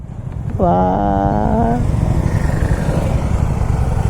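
A motorcycle on an open road revs up loudly nearby, its harmonic engine tone rising briefly, then settling into a steady rumble mixed with wind noise.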